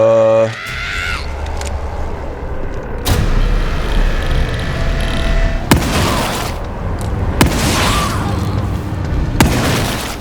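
Shotgun blasts from the horror video game The Evil Within 2, several loud booming shots spaced a few seconds apart over a dense, rumbling game soundscape.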